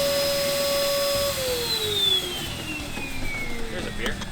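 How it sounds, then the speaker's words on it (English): A vacuum cleaner runs with a steady, loud whine that slowly drops in pitch, while people talk over it. "I need someone to operate the. The vacuum?"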